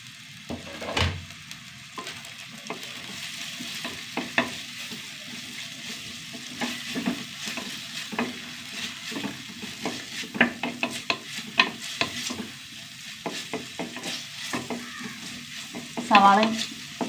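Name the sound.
onion, ginger and garlic sautéing in a pan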